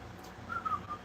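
A person whistles a few short, clear notes of a tune at close range against a quiet indoor background.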